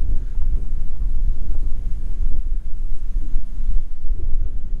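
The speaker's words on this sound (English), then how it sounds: "Very windy, but really pretty day today." Strong wind blows steadily across an open outdoor spot on a bison ranch, a constant low rumbling buffet of gusts with no pauses.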